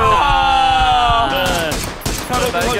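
Gunfire in PUBG during an esports match, rapid shots breaking out midway over a sustained tonal game sound, with a caster's voice heard.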